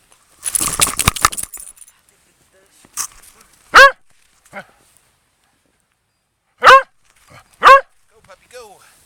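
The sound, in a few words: corgi dog barking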